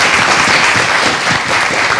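A studio audience on a talk show breaks into loud, sustained applause for a musical guest, a dense continuous wash of clapping filling the whole stretch.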